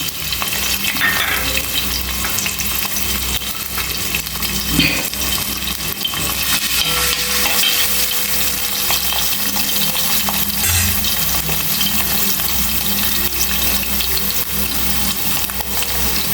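Chopped garlic and ginger fry hard in hot oil for a country-style Kerala chicken roast, giving a loud, steady, close sizzle with occasional stirring scrapes and clinks throughout.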